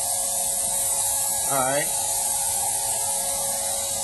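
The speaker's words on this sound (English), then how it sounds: "Just kind of spray that here." A spray tan gun hisses steadily onto skin, a continuous close, loud airy spray running throughout with a brief spoken remark partway through.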